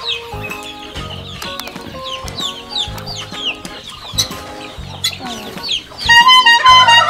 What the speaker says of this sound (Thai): ไก่มาแล้วไก่สองตัวนะ